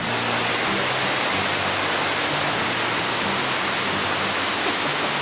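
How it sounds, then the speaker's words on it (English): Grotto Falls in the Smoky Mountains: a loud, continuous broadband rush of falling water, steady and close, with no break across the stretch. "You can hear the waterfall."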